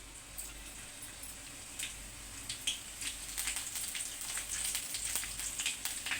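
Cumin seeds and curry leaves sizzle in hot oil in a pan for a tadka, a faint, steady crackle that builds into denser popping spatter toward the end.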